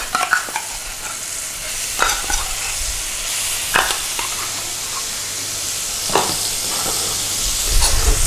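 Garlic and ginger sizzle in a hot frying pan in a restaurant-style kitchen, a constant hiss broken by a few scraping strokes of a utensil as the mixture is stirred.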